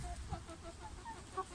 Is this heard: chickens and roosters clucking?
yes